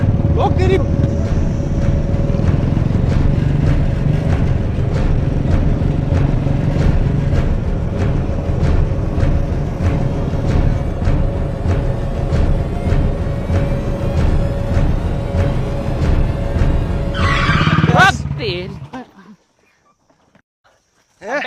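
A motorcycle engine runs loudly and steadily for about eighteen seconds while shouting voices carry over it during a chase after a phone thief, then it cuts off abruptly into near silence.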